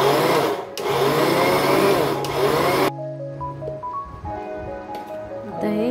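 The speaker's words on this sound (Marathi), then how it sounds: "ते जो मिक्सरचं बटन आहे कंटिन्यू आपल्याला ऑन ऑफ करून घ्यायचं आहे" A kitchen mixer grinder works fresh coconut for barfi, running loudly in short on-off pulses with brief gaps before it cuts out. A quieter tonal hum and some voice-like sounds follow.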